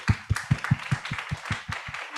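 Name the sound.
audience applause for startup pitches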